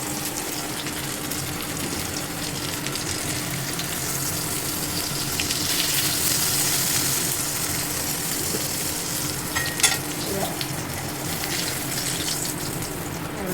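Pieces of chicken frying in hot oil give a steady, loud sizzle with a dense, even hiss that lasts the whole stretch and never stops.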